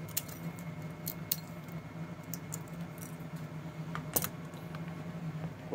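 Kitchen scissors snip chili peppers from a home organic garden, producing scattered soft, sharp clicks over a quiet room hiss, with no voices.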